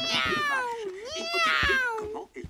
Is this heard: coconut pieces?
no